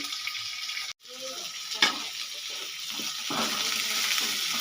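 Onions sautéing in a pan, a steady broadband sizzle with stirring scrapes and a brief break, continuous and close.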